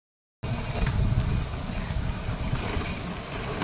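A car coasts downhill on the Raghuveer ghat with its engine switched off, giving a low steady rumble of tyres and wind noise after a brief silence at the start.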